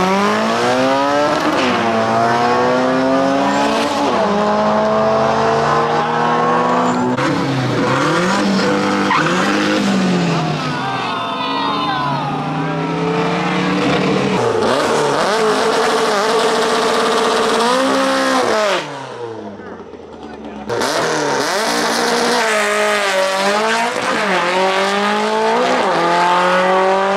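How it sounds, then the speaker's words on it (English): Drift cars at a Puerto Rico car meet rev hard and squeal their tires nearby. Engine notes climb and fall in repeated sweeps over continuous screeching rubber, with a short lull before the roar resumes. "drift cars over here. About to start shredding."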